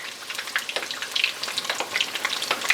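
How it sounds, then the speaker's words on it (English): Gluten-free onion rings fry in canola oil with a steady, crackling sizzle and dense bursts of popping, close and fairly loud throughout. "I'm cooking in canola oil."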